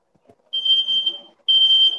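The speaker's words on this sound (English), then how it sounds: "It's making the smoke detector go off now." A smoke detector set off by smoke from an oven sounds two loud, piercing electronic beeps, each about half a second to a second long with a short gap between them.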